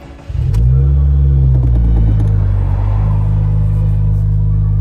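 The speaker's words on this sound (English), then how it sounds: "All right, you can turn the car on now" A Subaru car engine cranks and catches, then settles into a loud, steady low rumble close by as it idles.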